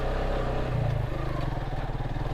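A motorcycle crawling up a steep hill road toward a tea-estate tila near Sreemangal in first gear, its low engine chugging close and steady with a slight rise in pitch midway.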